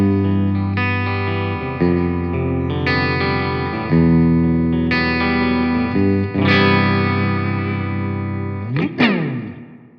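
Electric guitar chords ring through a Fender Champion 100XL amp set to its reverb 3 effect, several strummed chords sustaining and decaying into a wash of reverb, alone and loud.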